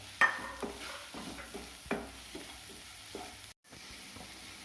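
Egg curry masala and salt are stirred in a hot pan with oil, a spoon scraping and clinking in a few scattered strokes over a soft steady sizzle.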